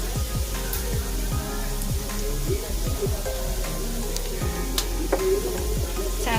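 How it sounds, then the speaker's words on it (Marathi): Carrots, capsicum and onion sizzle in hot frying oil in a pan, a dense steady crackle with regular scraping stir strokes running through it, loud and close. "गाजर शिमला मिरची आणि कांदा आपला तेलामध्ये चांगला परतून झालेला आहे"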